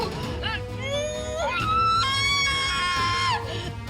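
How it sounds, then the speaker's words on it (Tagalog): A woman in childbirth gives a drawn-out, rising scream over background voices and shouting, holding high and loud before breaking off. "Narinig niyo yun? Sigaw ng nanganganak yun."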